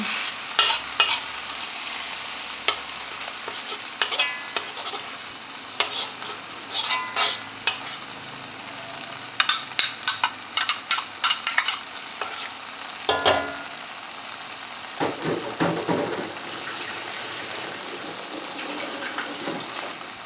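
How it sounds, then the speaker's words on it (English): Eggs sizzle in a pan while instant kimchi noodles are being made, a steady frying hiss with scattered clinks and scraping stirs that grow busier midway, all close and without talk. "Time for the eggs to go in."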